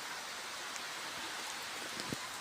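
Morning rain, a sun shower falling on a hot day, gives a steady, quiet hiss with scattered soft drop taps. No voices sound over it.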